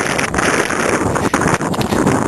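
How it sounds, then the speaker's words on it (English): Wind buffets the microphone along the Cornish coast path in early spring, a loud, gusty rumble with irregular thumps and flutters, no voices. "I know it's windy out, so this may be kind of windy at times."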